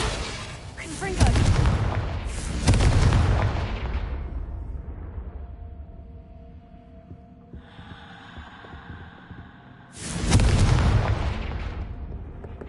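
Confringo spell blasts in the Hogwarts Legacy video game come as loud, deep booming explosions, two close together near the start and another later, with a quieter rumbling and humming game ambience between them.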